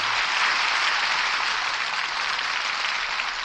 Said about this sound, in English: That applause says it